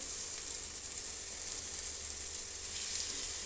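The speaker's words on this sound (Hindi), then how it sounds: "मैंने तवे पे घी डाल लिया है और ये सारे फल भून लूँगी अच्छे से" Fruits roast in ghee on a flat griddle, giving a steady, even sizzling hiss with no breaks, close and moderately loud.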